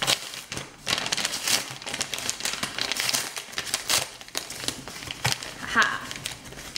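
Paper and plastic wrapping crinkle and tear in bursts as a package holding two books is opened, close and fairly loud, with a person talking over much of it.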